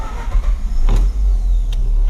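A Mazda RX-8 rotary engine is started while hot. It catches quickly and settles into a loud, deep, steady running hum, with a short starter whir and a couple of brief clicks early on.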